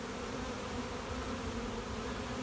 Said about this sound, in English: that is 2 stories of bees absolutely packed to the gills